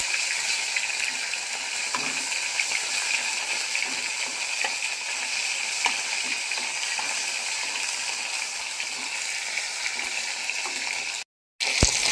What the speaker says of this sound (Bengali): টমেটোটা ভালো করে ভেজে নেবো